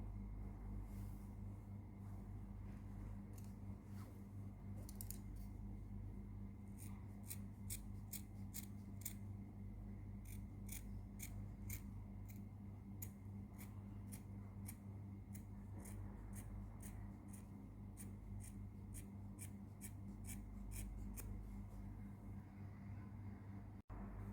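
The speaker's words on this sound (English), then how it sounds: "cut through this curve" Scissors cutting fabric along a curved neckline for a long frock, a quiet run of rapid, evenly spaced snips close by over a low steady hum, with no speech.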